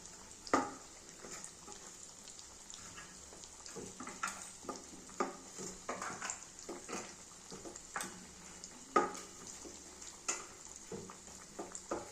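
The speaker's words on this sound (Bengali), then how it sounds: "ভাজা হচ্ছে গরম তেলের পকোড়া" Chicken pakoras frying in hot oil, a steady crackling sizzle with scattered sharper pops and spatters across the whole stretch, moderately close and without any voices.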